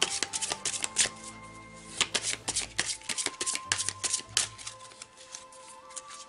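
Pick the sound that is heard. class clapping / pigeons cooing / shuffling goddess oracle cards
shuffling goddess oracle cards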